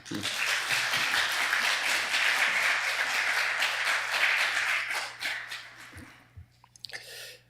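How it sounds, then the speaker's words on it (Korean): A church congregation gathered for a pastors' choir launch ceremony at Busan Seomun Church claps warmly: a full, continuous wash of many hands for several seconds that thins into scattered claps and fades, with a voice emerging at the end. "나오실 때 뜨거운 박수 부탁드립니다"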